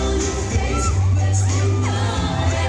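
A large crowd of fans cheers and shouts loudly, with children's voices among them, at a Kapuso Mall Show fiesta in Apalit, Pampanga, where a singer performs a sweet song; the roar is steady and close, with music faintly beneath.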